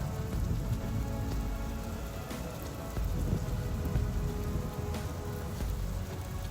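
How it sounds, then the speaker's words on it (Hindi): Heavy rain pours down steadily in a dense, continuous hiss and patter on surfaces, loud and unbroken throughout with no voices. "अरे ये क्या, अचानक से बारिश शुरू हो गई।"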